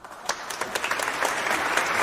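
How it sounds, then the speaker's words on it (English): Soundboard clapping effect: a steady patter of applause that builds slightly over two seconds, fairly loud and alone with no voices. "Let me use my soundboard and do some clapping."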